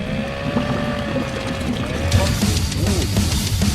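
A boat motor runs steadily and loudly close by, a continuous droning hum with a wavering pitch, under wind buffeting the microphone and occasional faint voices.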